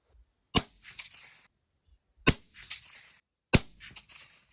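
Three sharp rifle shots ring out one by one at a target range at 100 yards, each a hard crack followed by a brief echoing tail, spaced roughly evenly with quiet between them.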